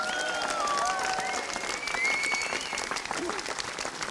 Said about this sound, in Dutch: Maak een applaus voor de top 3!